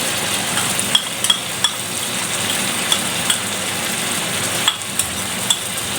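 Cumin and coriander powder are stirred into a frying pan, producing a steady close sizzle broken by occasional sharp metal clinks from the spoon.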